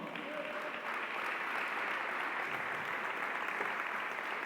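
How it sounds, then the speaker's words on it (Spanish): A church congregation breaks into sustained applause at a thanksgiving service, a dense steady wash of many hands clapping together with no break. "dele un aplauso al Señor"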